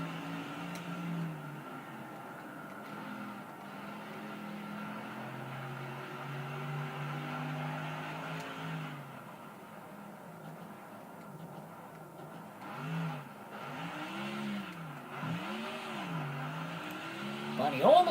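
Race car engine in NASCAR Thunder 2004 at Infineon road course, a sustained engine drone with rising and falling revs as the car accelerates and lifts off, under continuous commentary voices.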